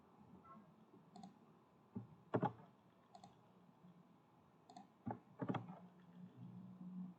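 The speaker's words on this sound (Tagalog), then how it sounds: "Kailangan ko talagang i-type." Sparse, faint clicks and short bursts of keys on a computer keyboard, irregular and close, with quiet pauses between small clusters of taps.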